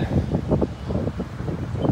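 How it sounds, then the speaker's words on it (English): Gusty wind buffets the microphone with a low, continuous rumble and uneven bursts, no one speaking, in a hilly town in Plattsmouth, Nebraska. "Very windy too."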